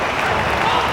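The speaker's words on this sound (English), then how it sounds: "the crowd urging these two fighters on here as they vie for the 84-kilo golden belt" A crowd at a Karate Combat fight for the 84-kilo belt roars and claps in a dense, continuous wall of noise, loud and close, with voices mixed in.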